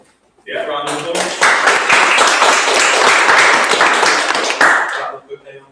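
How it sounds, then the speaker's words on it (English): An audience at a student election event breaks into sustained clapping and applause for several seconds, dense and close, after a brief voice and before it tails off. "round of applause"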